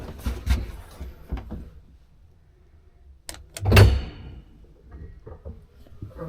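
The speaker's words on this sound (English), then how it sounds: "Got that door shut." An elevator's interior door slides and shuts with a single solid thump amid faint shuffling and small knocks.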